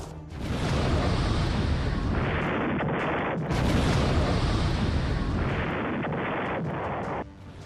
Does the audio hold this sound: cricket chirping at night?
no